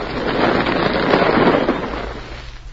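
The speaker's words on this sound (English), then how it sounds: "I'm going to blast through here" A mine blast in an old radio drama set in the Yukon, a loud rumbling explosion with crumbling rock that swells for about two seconds, then fades toward the end.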